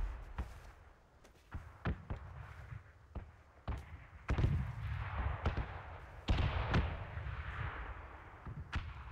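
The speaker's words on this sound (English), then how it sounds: "Seeing explosions in the red zone" Explosions in PUBG's red zone, a bombardment area of the battle royale shooter: a series of sharp booming blasts at irregular intervals, some louder and heavier than others, with no talk over them.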